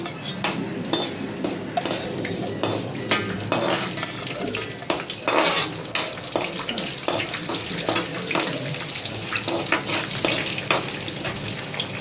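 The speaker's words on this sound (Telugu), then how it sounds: "శనగపప్పు, మినపప్పు, ఆవాలు ముందుగా వేపుకోవాలి. ఆయిల్ హీట్ ఎక్కింది." Chana dal, urad dal and mustard seeds fry in hot oil for lemon pulihora, giving a close, steady crackling sizzle with frequent sharp pops throughout and no talking.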